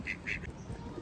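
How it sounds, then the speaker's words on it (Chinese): A duck gives three short quacks in quick succession, faint and slightly distant over a low background hum, with no one talking. "鸭鸭，你是鸭鸭。"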